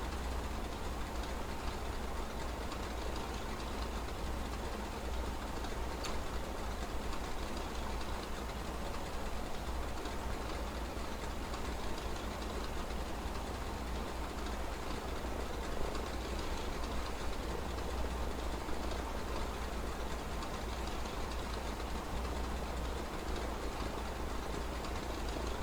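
A propeller aircraft engine running at full RPM with mixture full rich in the X-Plane 11 flight simulator, a loud, unbroken droning roar holding steady throughout.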